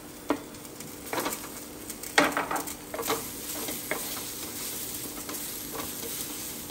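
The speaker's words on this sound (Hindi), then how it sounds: "और बस अभी डालना है आलू।" Potatoes dropped into a pan to fry, a low sizzle broken by a few scraping, clattering stirs early on, then settling into a steady quiet hiss.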